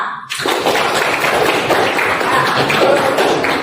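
A classroom group claps for a student named Sasa during a lesson, with a sudden, loud, dense burst of clapping that starts after a brief pause and holds steadily to the end, no talking over it.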